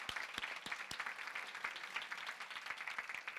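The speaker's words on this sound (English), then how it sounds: "give Davida, Stephanie, and team an awesome round of applause for this conference" A conference audience gives a round of applause at a closing plenary, a moderate patter of many hands clapping steadily at some distance, with no voices over it.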